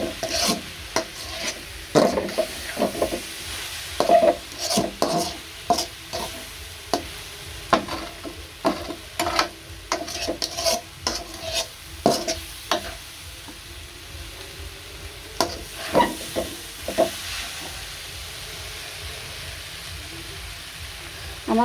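Puli pitha filling thickening in a pan as it is stirred, with frequent close scraping and knocking strokes of a spoon in an irregular rhythm over a soft sizzle, no voices.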